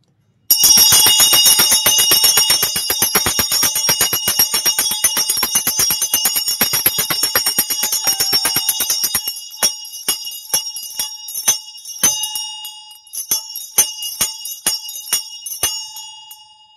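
A bell rung loudly and rapidly in a dense, continuous jangle for about nine seconds, then struck more slowly in separate ringing strokes with short gaps between them.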